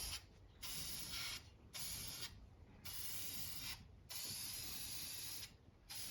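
Aerosol spray can nozzle spraying a coating onto the underside of a farm truck part, sounding as five or six loud sustained hissing bursts, each about a second long and separated by short pauses.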